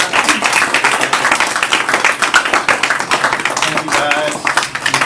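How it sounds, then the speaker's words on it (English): An audience at a community gathering claps in a dense, sustained round of applause that stays loud and even throughout, with a few voices faintly mixed in. "Let's give Billy and the panel again a big round of applause."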